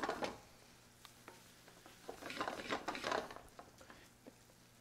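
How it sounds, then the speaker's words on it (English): Risotto rice toasts in oil and butter with onions while a spoon stirs it in the pan, giving soft scraping strokes, a light sizzle and occasional clinks, close and quiet, with no voices. "we toast every kernel of rice in that oil and that butter, along with those onions"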